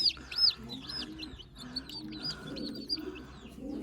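A young pigeon chick gives repeated thin, rising squeaky calls while being hand-fed, close and fairly soft, with faint rustling and handling noise underneath.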